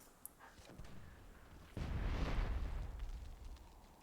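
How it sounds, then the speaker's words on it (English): Dwarven mortars firing in the video game Myth II Soulblighter, a muffled booming blast with a rumbling low tail, following a couple of faint softer thuds, heard from moderately far with no talking. "these Dwarven mortars just teeing off"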